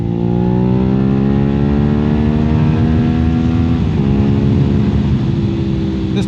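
A Suzuki SV650 motorcycle on new tires accelerates hard while riding, loud steady engine note climbing in pitch through a gear, heard close from the bike itself without talk.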